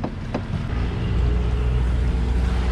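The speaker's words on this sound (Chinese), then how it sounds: "现在已经坐船了，马上出发，赶潮水。" Small fishing boat engine droning as it sets out to sea, a steady low rumble with wind buffeting the microphone and a couple of sharp knocks at the start.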